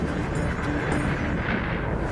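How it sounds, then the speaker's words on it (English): Strombolian volcanic eruption explosion, heard as a loud, sustained, deep roar that rumbles steadily throughout with no voices. "This is what's called a Strombolian eruption, named after the active Stromboli volcano in Italy."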